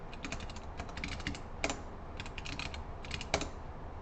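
Fast, steady keystrokes on a computer keyboard while entering build commands for compiler work, close and fairly quiet, with a few louder key hits standing out from the continuous clatter.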